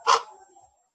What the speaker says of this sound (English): once I press the spacebar key, the dog barks and it's moving at the same time